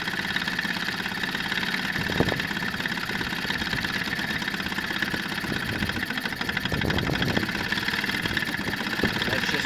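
A Sears outboard motor runs on a remote fuel tank, a steady rattling idle with a buzzy mechanical tone, close and constant, with a few faint knocks and bumps.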